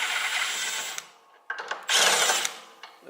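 A 1/2 inch socket wrench works the lower bolt of a TimeMaster 30-inch height adjustment handle, giving two bursts of rapid metallic ratcheting, the second louder, with a few sharp clicks between them and after them.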